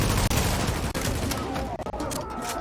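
Rapid gunfire in The Division, a loud dense burst of shots crackling nonstop with explosions mixed in, under brief speech.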